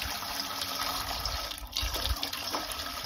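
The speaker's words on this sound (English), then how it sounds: "So now we got the hose on. We are going to fill that canner up." Water from a garden hose gushes steadily into a metal canner, a continuous close splashing rush with no talking.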